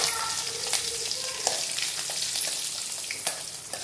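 Ginger and green chillies fry in hot oil for vegetable upma, giving off a steady, faint hiss and sizzle with a few light stirring clicks. No voices are present.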